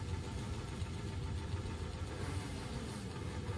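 Two-stroke Bultaco flat track motorcycles at a track, engines running together in a steady dense drone with a rough popping texture from compression releases, loud and continuous throughout.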